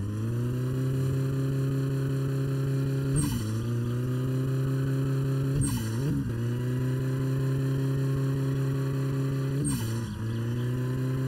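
A turbocharged car engine in the video game My Summer Car drones at steady high revs, with three brief dips and blips where the pitch drops and climbs back.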